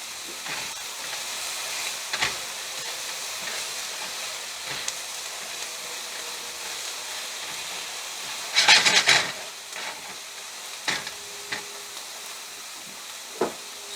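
Vegetables lowered into a hot chicken stir fry, giving a steady background hiss of frying with several sharp sizzling bursts, the loudest about two-thirds of the way through.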